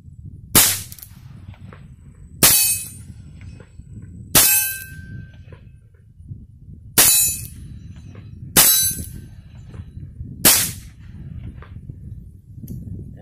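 A Heritage Rough Rider revolver firing Federal high velocity match rounds: six sharp, loud gunshots spaced about two seconds apart, each with a short ringing decay, against a quiet outdoor background.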